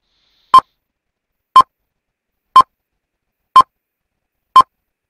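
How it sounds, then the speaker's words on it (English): Five short, identical electronic beeps sound at an even one-second pace, each separated by silence. "that beeping noise makes me nervous"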